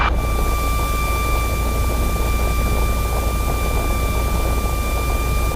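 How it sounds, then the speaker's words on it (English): A light aircraft engine during its run-up at 1700 RPM: a loud, constant, noisy drone with steady tonal whine, unchanging throughout, as heard from inside the cockpit. "throttle 1700 RPM. Throttle is 1700 RPM."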